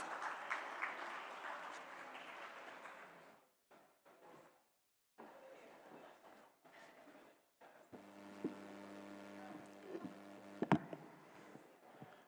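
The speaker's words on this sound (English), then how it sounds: "Please give him a round of applause." A burst of applause from an audience fades out after a few seconds, followed by quiet shuffling and a tonal hum.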